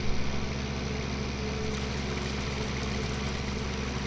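A modded tractor engine idles in Farming Simulator 19 on an Irish farm map, a steady low diesel throb with a loud, even hum and faint knocking rhythm throughout.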